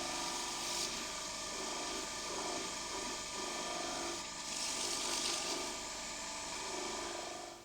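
A wood lathe spins while an ebonised, gold-gilded sapele bowl is buffed, a quiet, continuous whirring hum with soft swells of friction.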